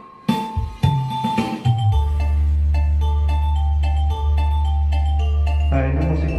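Music plays loud and steady from a USB drive through a homemade 12-inch active speaker with separate boxes, heavy sustained bass under melodic tones after a few brief opening hits.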